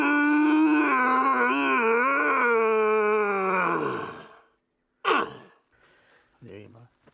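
A hunter imitates a red deer stag roar with his voice: one long, loud, wavering groaning bellow lasting about four seconds, followed by a couple of short, quieter grunts.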